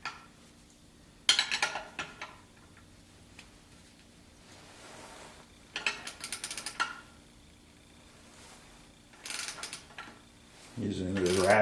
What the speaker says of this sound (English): Using the ratcheting action on the one I'm holding.